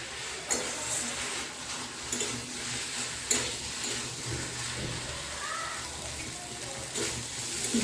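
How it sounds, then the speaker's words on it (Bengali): Papaya and potato are stir-fried with spices in a pan over a raised gas flame, a constant soft sizzle broken by occasional scraping knocks of the spatula, close and fairly quiet with no talk. "এবার এটা ভালো করে কষিয়ে নিতে হবে এই সম্পূর্ণ মশলাটার সাথে।"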